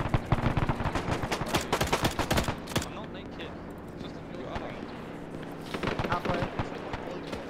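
Rapid bursts of gunfire from a World War II Battle of Tarawa video game, loud and dense at first, easing off mid-clip, then returning in sharp volleys; a voice speaks over it.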